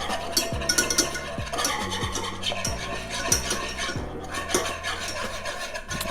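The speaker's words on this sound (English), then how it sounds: "Go ahead and mix it up a little bit." Homemade wing hot sauce is stirred in a pot as it comes to a boil, a steady scraping and swirling that runs continuously beneath music.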